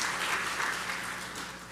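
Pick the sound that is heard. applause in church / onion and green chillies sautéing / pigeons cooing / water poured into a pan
applause in church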